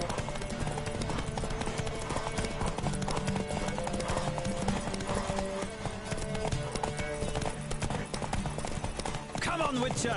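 Rapid, steady hoofbeats of a galloping horse pound throughout, with a dense rhythmic clatter and faint background sounds, from a horse race in The Witcher video game on PS4.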